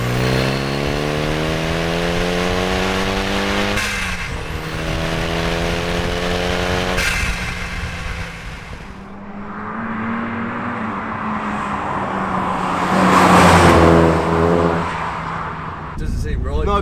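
A Renault Kangoo van with a swapped turbo Megane 225 engine revs hard and climbs through the gears, the pitch rising and dropping with each shift, with someone talking over the loud, close engine noise.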